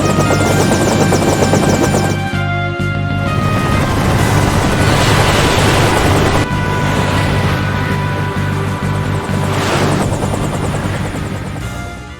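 In the Final Fantasy IV video game, an airship lands at the castle with a loud, continuous propeller-like engine drone and rumble that holds steady throughout.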